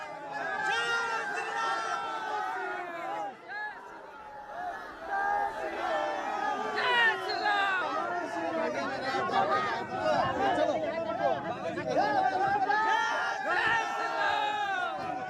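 A large crowd of devotees packs an airport runway around a chartered plane, a dense continuous roar of shouting and chatter from many voices, loud and close throughout.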